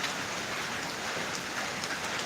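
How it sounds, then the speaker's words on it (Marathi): Steady rain in Kerala pours down in an even, hissing wash of drops on hard surfaces, constant throughout with no voices. "थांब ते संपूर्णपणे थांबला नाही पाऊस"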